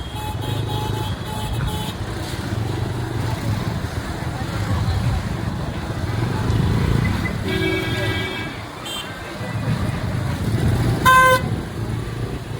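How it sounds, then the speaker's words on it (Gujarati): Busy street traffic during a kite-flying festival, with car and motorbike engines rumbling close by while several horns toot in short bursts and one sharp honk near the end; voices talk over the din. "ટ્રાફિક તમે જોઈ શકો ટ્રાફિક કેટલું છે"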